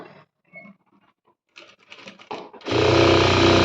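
A sewing machine stitches a high puff blouse sleeve. After some soft fabric handling it starts up and runs in a loud, steady, close whir to the end.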